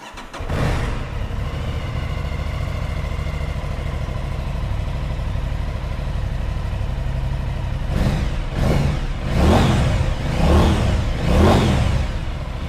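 An Aprilia Tuono 660 Factory motorcycle engine idles steadily at close range, then revs sharply several times in quick bursts near the end.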